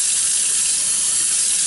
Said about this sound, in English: And then I'm going to put some water in it.